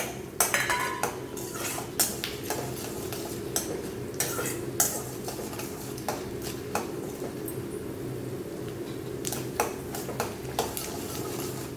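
Cut cashew nuts are stirred in a pan of oil for mint rice. A utensil scrapes and taps against the metal steadily and close by, over a low, faint sizzle.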